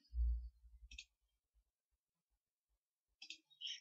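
Mouse clicks in Crystal Reports software come as a couple of brief, faint, crisp clicks separated by quiet, with a low thump at the start.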